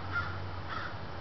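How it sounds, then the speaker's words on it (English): Crows cawing in the background outdoors, two faint distant caws in a brief moment over low ambient noise. "You can hear the crows in the background."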